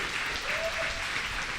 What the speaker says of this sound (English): Let me hear you applauding them